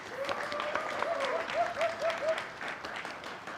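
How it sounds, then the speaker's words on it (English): An audience at a university graduation ceremony applauds in a steady wash of clapping, with a few rising whoops or whistles on top. "Let's give our students another round of applause."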